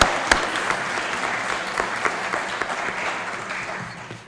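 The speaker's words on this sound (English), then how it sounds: "let's give them a big round of applause" An audience applauds at a Pembroke Class of 2023 awards program, a dense burst of clapping that starts loud and gradually fades over a few seconds.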